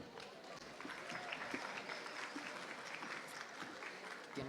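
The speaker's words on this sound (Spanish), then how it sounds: "Un fuerte aplauso." An audience applauding after the introduction of an academic talk on prehispanic social processes, quiet steady clapping from many hands heard at a distance, continuing evenly throughout.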